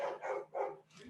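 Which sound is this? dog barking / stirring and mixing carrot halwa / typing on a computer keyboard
dog barking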